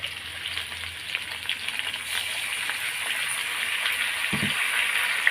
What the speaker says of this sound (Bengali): এখন আমি মশলাগুলো সব দিয়ে দেবো এখানে পেঁয়াজ রসুন আদা দেওয়া